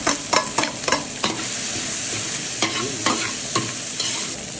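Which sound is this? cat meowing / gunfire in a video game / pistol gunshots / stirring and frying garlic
stirring and frying garlic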